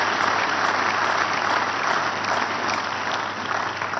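A church congregation at a special blessing service during a fast and prayer period bursts into sustained, dense applause, loud and even throughout with no break, and no voices stand out.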